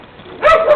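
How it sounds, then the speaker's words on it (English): A dog gives a short, sharp bark in a garage during a transmission fluid job on a 2007 Pontiac G5, a single loud close yelp followed by a quick softer second note. "Oh, good dog, listen."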